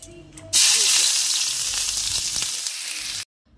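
A little oil and chopped onions go into a hot kadai and burst into a loud, close, hissing sizzle. It starts abruptly, holds steady for nearly three seconds, then cuts off sharply.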